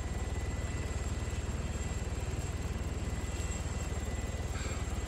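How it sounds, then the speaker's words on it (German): A helicopter in the video game Arma 3 (Altis Life mode) runs continuously, with a steady, even rotor thump and engine drone at constant loudness throughout. "Steht ein Heli."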